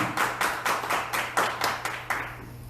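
Church congregation clapping in a steady rhythmic pattern of about a dozen distinct beats, moderately loud and fading toward the end, with a low sustained hum underneath and no talking.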